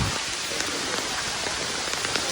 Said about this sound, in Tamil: பயங்கர மழை.